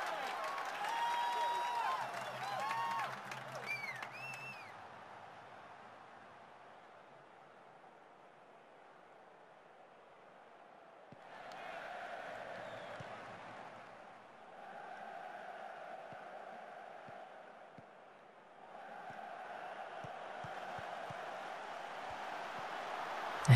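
A stadium crowd in Football Manager 2021 applauds during a cup match. Soft swells of clapping and cheering rise and fall in several waves, with a brief voice near the start.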